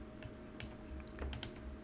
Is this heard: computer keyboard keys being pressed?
yes